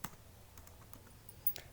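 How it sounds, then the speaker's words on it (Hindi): Keys tapped on a computer keyboard while a file name is entered in a save dialog, a short run of soft, quiet clicks spaced irregularly, with no voice over them. "अब आगे हम लिख देते हैं फ़ाइल का नेम।"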